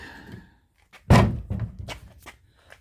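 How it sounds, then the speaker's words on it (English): A 1966 Chevelle car door opens with a single solid thunk, followed by softer mechanical clicks and rustles as it swings wide, heard up close. "Door open."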